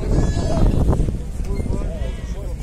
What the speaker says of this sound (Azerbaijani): Balalı qoyunu da var.